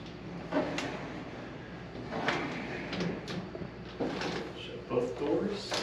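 Bifold doors being shut after hardware installation, giving soft sliding clacks and knocks over a steady background hiss, with a person talking throughout.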